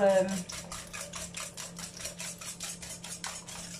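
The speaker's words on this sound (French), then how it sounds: "Alors, on va mélanger ça." Batter for an apple flan with eggs and crème fraîche stirred in a bowl, quick regular clicking strokes of the utensil against the bowl, close and fairly quiet with a low hum beneath.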